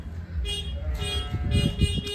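A vehicle horn beeps as children press it at a busy afternoon event beside a wool pavilion, short honks over low rumbling background noise.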